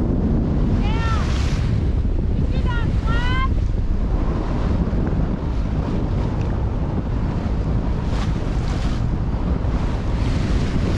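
Strong wind roars steadily across a sailboat at sea, with water washing around the hull and a few faint squeaky chirps near the start.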